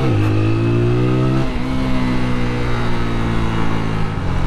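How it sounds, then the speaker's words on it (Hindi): A TVS Apache 200 BS6 motorcycle engine gives a steady, loud rumble with strong low harmonic bands, rising in pitch at the start and then settling into a constant mechanical drone, with a rumbling tappet noise. "that रमलिंग sound, that रमलिंग mechanical sound, it is very irritating"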